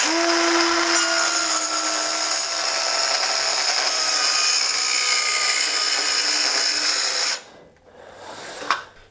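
A Dremel portable saw whines loud and steady while ripping a 2x4 lengthwise, the high motor tone holding for several seconds before cutting out and spinning down.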